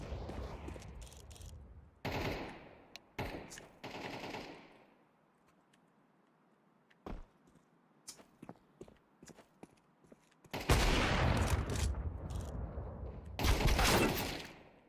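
Bursts of rapid gunfire in Counter-Strike crackle in short clusters, separated by quieter gaps with scattered footsteps and single shots, then swell into two loud sustained volleys near the end.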